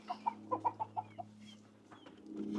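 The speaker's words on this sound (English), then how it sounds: "Then I got a bunch of new chickens in here too." Chickens cluck in a quick series of short, close calls, then trail off into a low steady hum with a faint squawk at the end.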